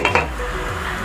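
A lid set onto a cooking pot holding ginger, lemongrass and green chilies for coconut-milk vegetable stew, giving two quick close metallic clinks within a second, then a low steady stovetop hum.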